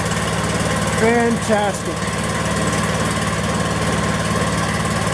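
A Power King DK2 stump grinder engine runs at a steady idle right after one pull, a continuous mid-pitched drone close by, with a brief spoken exclamation over it early on.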